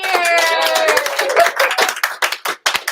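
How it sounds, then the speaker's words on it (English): At an auction night, a small group breaks into brief clapping after a drawn-out cheer. The claps come as scattered, sharp close bursts over a few seconds. "big round of applause to everybody here"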